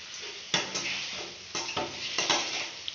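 Sliced okra with turmeric and salt sizzling in hot oil in a pan, stirred with a utensil that scrapes and clinks against the metal several times, close and moderately loud, with no talking.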